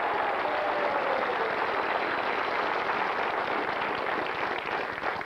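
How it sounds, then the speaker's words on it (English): Studio audience applause on the game show Catchphrase, a steady, dense clapping from a crowd that carries on at full strength throughout and only eases slightly at the very end. "give her a nice round of applause"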